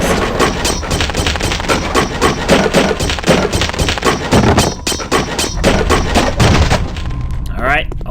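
Boxes and objects being smashed in a Half-Life mod shooter, a loud rapid barrage of gunfire-like blasts and wooden cracks that runs almost nonstop, then breaks off near the end.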